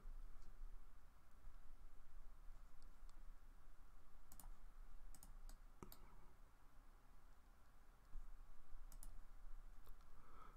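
Computer mouse clicks at a desk while working in CAD software, a few sharp close clicks in small clusters over a low steady background hiss.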